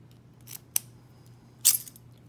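A key on a heavy-duty American lock snapping off, giving sharp metallic cracks: a short click, then a crisp snap, and a louder break near the end, close and isolated over quiet background hum.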